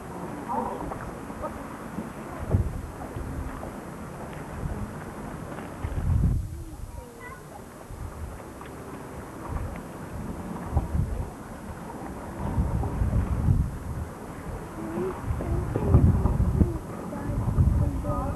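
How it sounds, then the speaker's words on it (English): Wind buffets the microphone in low rumbling gusts that swell and fade, with voices speaking underneath. "it's quite windy"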